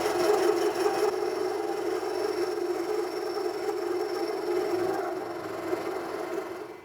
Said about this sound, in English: I tried slowing it way down, so we're about 250 RPM from 450 RPM. The climb milling pass.